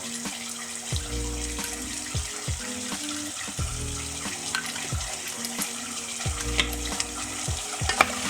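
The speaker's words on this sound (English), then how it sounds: "Then you want to fry this off" Braised belly pork with soy sauce fries in a pan with a continuous bubbling sizzle, while a spatula scrapes and knocks against the pan in a repeated, fairly regular stirring rhythm.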